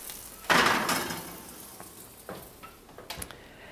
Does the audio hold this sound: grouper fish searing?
yes